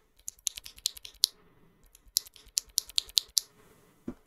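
Keystrokes on switches mounted in a fake Wooting 60 HE+ build with a gh60 YMDK YD60MQ PCB, pressed in quick irregular bursts of sharp clacks and clicks, close and clear, with short pauses between runs.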